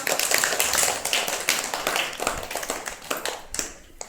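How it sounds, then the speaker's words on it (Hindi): Children in a classroom clap their hands in a quick, uneven burst of sharp claps, close by, during a counting lesson. "ताली बजाओ।"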